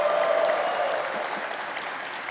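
A graduation commencement audience applauding and cheering, dense steady clapping from a large crowd that slowly tapers, with no speech over it.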